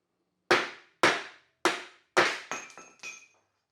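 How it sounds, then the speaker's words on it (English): Sharp metallic hammer blows on a frozen Porsche 356 transmission nose cone, six distinct strikes about half a second apart, the later ones ringing brighter with a clinking, glassy tone. "I think we can now use the hammer."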